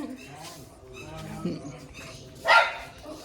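A dog gives a sharp bark near the end, after a few quieter yips and whines against a low background.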